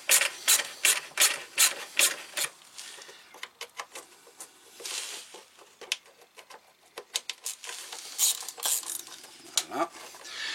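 Motorcycle mudguard screws are backed out with a Torx 25 screwdriver, making a run of close, quick ratcheting clicks and scraping turns in irregular bursts with short pauses between them.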